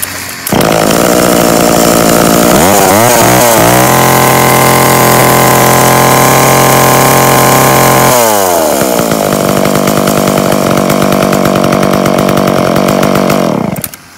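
A used Japanese chainsaw weighing 7.5 kg starts and runs close by, loud and buzzing as it revs up, holds a steady high whine, drops briefly, then revs again before cutting off.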